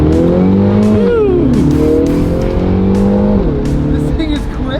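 A GP car pulling away hard, its engine revving loud and close with rising and falling tones as it climbs through the gears, heard from inside the cabin while people talk over it.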